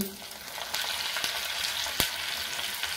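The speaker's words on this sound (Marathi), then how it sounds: "आपले तेल तापलेले, त्यामध्ये मी 1 चमचा राई घालते, 1 चमचा जिरे घालते, 7 ते 8 लसूण पाकळ्या घालते, कढीपत्ता घालते" Mustard seeds, cumin, garlic cloves and curry leaves sizzle in hot oil for a tempering, a close, steady frying crackle broken by a few sharp spoon clicks against the pan.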